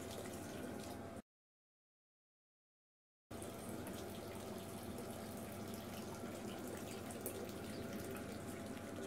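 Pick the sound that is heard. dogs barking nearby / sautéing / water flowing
water flowing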